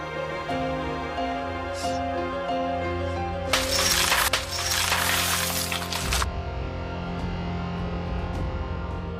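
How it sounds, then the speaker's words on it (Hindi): A glass window is smashed, a loud burst of shattering glass that lasts a few seconds over a droning musical score, then the shards settle and the music continues. "मैं कांच तोड़ के अंदर आऊंगा"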